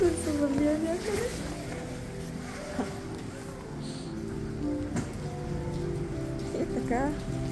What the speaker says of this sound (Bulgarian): навън вали